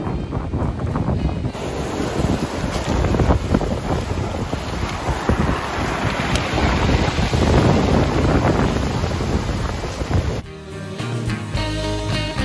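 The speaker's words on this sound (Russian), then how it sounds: "Снимем шторм, и вы увидите шторм на Черном море." Storm wind buffets the microphone over crashing waves on the Black Sea, a loud continuous roar that drops off abruptly near the end.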